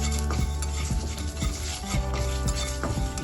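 Whole black pepper, fennel and cumin dry-roast with salt in a metal kadai, a spatula scraping and stirring in repeated close strokes over a soft rattle of spices, without speech.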